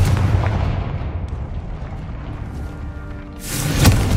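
Confringo blast spell exploding in the Hogwarts Legacy video game: a heavy, rumbling explosion with deep booming low end, settling briefly before a second sharp burst near the end.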